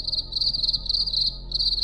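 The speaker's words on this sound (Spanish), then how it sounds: "Fue el sonido de grillos. No uno, no dos, al menos unos 10." About ten crickets inside a kitchen cupboard chirp together in rapid, pulsing bursts, a shrill and fairly close trilling that pauses briefly before starting again.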